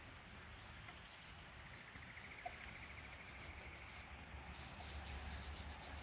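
An old silver shilling coin is rubbed gently to clean it, giving a faint, steady scratchy rubbing close by, with a quiet outdoor hiss behind it and no talk.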